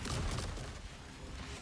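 A flat cannon fires in Trailmakers, a short, muffled boom that opens the clip and then trails off into a low, rumbling decay.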